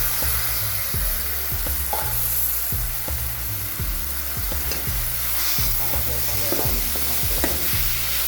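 Tomatoes fry in a hot pan while a spoon stirs them, giving a steady loud sizzle broken by repeated scraping strokes, with no talking.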